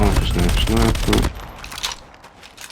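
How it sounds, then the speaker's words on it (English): In the Call of Duty Mobile video game, a burst of rapid automatic gunfire plays loud for about a second, then thins into scattered quieter shots and game noise. "I was under fire."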